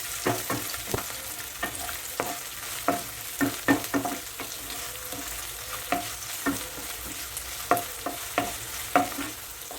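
Onions frying in hot oil sizzle steadily up close, with repeated sharp scrapes and clinks of a spatula stirring the pan at an irregular rhythm; no one speaks.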